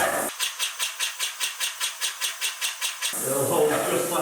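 A Graco GXFF (GX19) airless electric paint sprayer with a compact gun pumps in a rapid, even series of about a dozen pulses, then gives way to a loud, steady spraying hiss.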